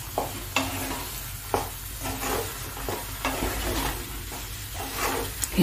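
Banana stem paste fries in a pan, a steady sizzle broken by regular scraping strokes of the stirring spoon, close and clear with no talking.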